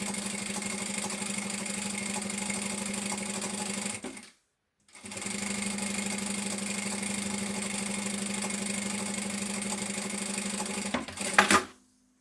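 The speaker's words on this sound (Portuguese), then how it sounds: "E vou passar uma costura à largura do calcador em cima." A sewing machine runs steadily while stitching a seam on a shoulder bag, giving a loud, even mechanical hum. It stops briefly, then runs again and ends with a few clunks.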